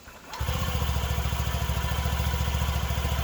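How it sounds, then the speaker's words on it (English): A Honda Ruckus 50cc scooter engine starts up and settles into a steady, rapid idle, its low puttering throb close, quiet and continuous. "Purrs like a little kitten. It's so funny how quiet it is."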